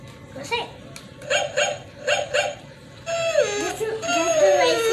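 A toy dog gives several short electronic yaps in a row, followed by a warbling squeaky electronic tune, with a voice briefly in the background.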